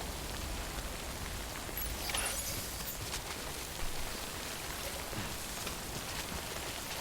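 Rain falling in the Death Stranding game world, a soft, continuous hiss of drops on surfaces with no talk, steady throughout and fairly faint.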